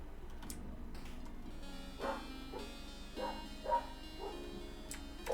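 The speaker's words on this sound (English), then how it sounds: "Doggy is barking." A dog barks in a video game, a few short yips and woofs spaced across a faint, steady game soundtrack, with no talking over them.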